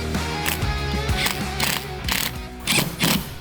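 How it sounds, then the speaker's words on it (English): A ratchet wrench clicks in quick repeated bursts while a hinge is bolted onto a Rock Slide Engineering truck bed rack, close and fairly loud, several short runs of mechanical ratcheting with brief pauses. "Then we're gonna wanna go ahead and get our hinge bolted on."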